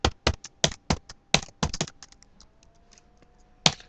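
Fingers typing on a computer keyboard while entering program code, a quick run of close, crisp keystrokes that thins to a few faint taps before one last sharp press.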